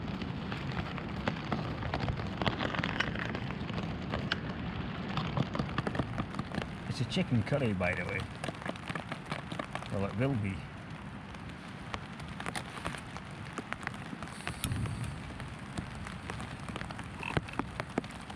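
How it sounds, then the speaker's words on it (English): Rain falling steadily on a tent during a stealth camp in the woods, a dense close patter with scattered louder drops, while someone talks over it about cooking a chicken curry. "Can you tell it's raining?"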